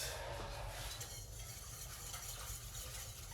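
A whisk stirring continuously in a pot on the stove, with steady scraping and swishing alongside a low sizzling hum, close and even throughout.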